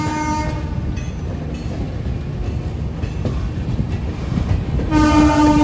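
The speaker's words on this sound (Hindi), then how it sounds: "हमारे साथ साथ अनवरगंज से कोई और ट्रेन अप्रोच कर रही है कानपुर" Indian Railways train on approach to Kanpur, another express running alongside from Anwarganj; continuous loud rumble of wheels and carriages with a sustained horn blaring near the end, no talk.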